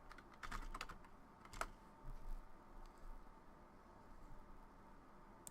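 Fast, light tapping of computer keys, a few quick bursts with pauses between them, faint and close with no speech.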